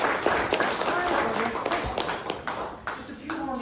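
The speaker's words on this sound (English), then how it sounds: "Linda is the person that you ought to be applauded." An audience at an opening event applauds Linda with steady, close clapping of many hands, with someone speaking over it as it fades.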